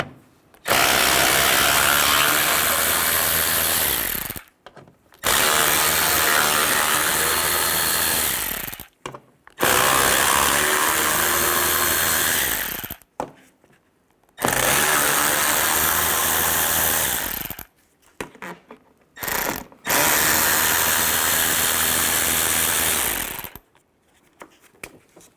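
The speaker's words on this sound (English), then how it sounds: "Now we're going to take all these bolts out on top of the fender." A ratchet with a T30 socket works loose the fender bolts on a 1998–2010 Volkswagen Beetle, five long bursts of rapid whirring clicks separated by short silences, close and loud, with no talk.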